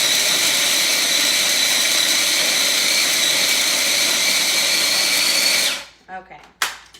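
A food processor whirs through a sticky energy bite mixture sweetened with maple syrup, a loud steady motor roar for about six seconds, then cutting off and followed by a few close clunks.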